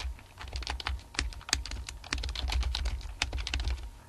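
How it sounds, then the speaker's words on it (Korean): Typing on a computer keyboard while entering text into a shape in Excel 2013: rapid, uneven clicks and key taps in a continuous burst, close and fairly crisp, with no talking. "이 도형이 선택된 상태에서 바로 키보드로 내용을 입력을 해 보겠습니다."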